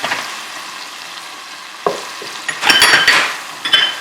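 Turmeric paste, turmeric powder, cayenne and garam masala hit a pan of sizzling masala for daal makhni, a quiet fry that bursts into loud crackling hiss with spoon scrapes and clinks against the pan.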